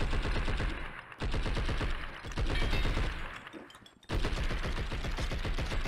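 Rapid automatic gunfire in the video game Blood & Bacon, dense bursts of repeated shots with two brief pauses, loud and close.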